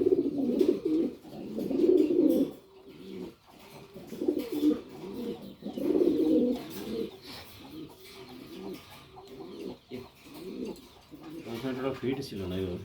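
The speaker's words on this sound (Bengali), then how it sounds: "আমাদের আশিক ভাইয়ের লফটাই ব্রিড হওয়া কবুতর" Pigeons in a breeding loft coo loudly and close by in repeated rhythmic bouts, with a few softer calls between them and some faint talk in the background.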